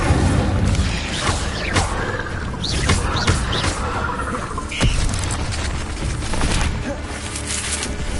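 Incendio fire spell cast repeatedly in Hogwarts Legacy, giving dense booming, crackling bursts layered over ongoing game noise and effects at a fairly loud, steady level.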